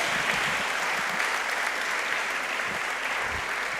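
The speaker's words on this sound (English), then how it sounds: "Round of applause." A crowd gives sustained, even applause after a Ghana Dance Ensemble interlude at a university anniversary launch, a loud, continuous wash of clapping with no pause.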